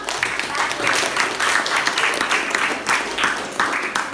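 Classroom applause for a student group after its presentation: a steady, dense patter of many hands clapping throughout, with voices faintly mixed in.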